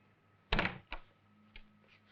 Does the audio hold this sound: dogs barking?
no